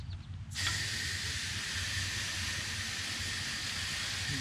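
A garden hose sprays water onto the coil of a central air conditioner during maintenance, a steady broadband hiss that starts abruptly after half a second and runs on loud and unbroken to the end.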